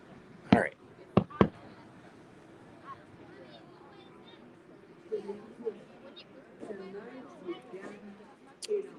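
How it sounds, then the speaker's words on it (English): Sharp fireworks bursts crack at a lodge waterfront: a few loud pops early and one near the end, with steady crowd chatter and murmuring voices filling the gaps in between. "We'll catch some more of the fireworks"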